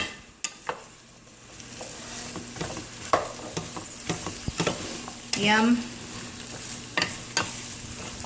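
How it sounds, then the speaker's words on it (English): Potatoes seasoned with pepper and salt sizzle steadily while frying in a pan for a breakfast of eggs and potatoes, with scattered clinks and scrapes from stirring, plus a brief spoken remark. "You're gonna hear it sizzle a lot at the bottom."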